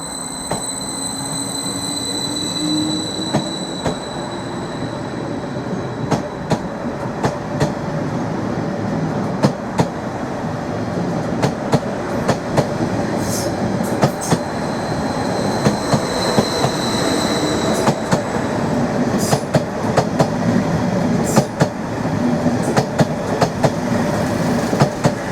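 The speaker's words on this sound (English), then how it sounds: "is departing out of platform 2, working the 14:30 service to London Liverpool Street." A train pulls out of platform 2 at Norwich station on the 14:30 service to London Liverpool Street, a steady rolling rumble with repeated clickety-clack wheel beats over the rails and faint high squeals, continuous and fairly near throughout.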